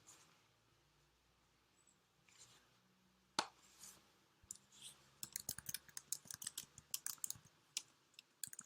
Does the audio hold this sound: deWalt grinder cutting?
no